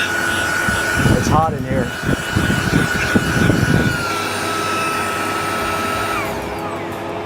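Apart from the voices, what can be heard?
car vacuum cleaner running in blower mode inside Tesla Plaid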